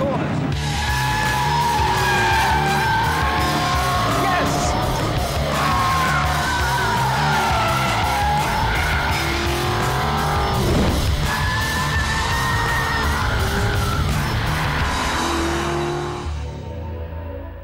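An Aston Martin V8 Vantage roadster powers through corners, its engine revving up and down over roughly eighteen seconds with tyre noise and rising, falling pitch, loud and close throughout.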